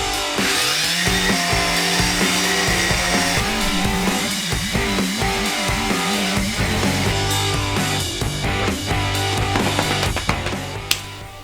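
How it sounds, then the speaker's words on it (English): A power sander works over the wooden slide-out table of a van conversion, a loud, steady whining grind that runs close and unbroken, with no talking. "Okay, time to sand that baby."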